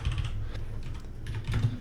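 Keys on a computer keyboard tapped in quick irregular bursts at close range, typing in numeric values with brief pauses between clusters of keystrokes.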